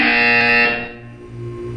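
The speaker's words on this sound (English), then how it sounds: "You will hear a buzzer." A loud electronic buzzer from the video game Portal 2, one sustained harsh tone that cuts off after about two thirds of a second, followed by a quieter lingering hum.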